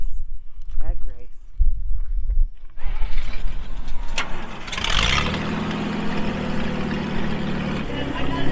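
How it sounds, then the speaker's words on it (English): 1950s four-wheel drive tractors cranking and starting up, then settling into a loud, rough, low engine rumble that holds steady, with people talking over the engines beforehand. "Shannon and Callie decided to take the tractors for a test drive."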